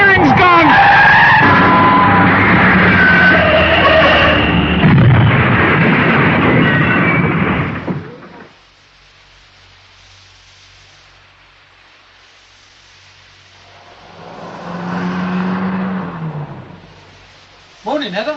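A worn-out, clapped-out car skids and speeds out of control in a radio drama: a loud, harsh screeching burst lasting several seconds, then near silence, then a shorter, fainter squeal that returns before a sudden final hit.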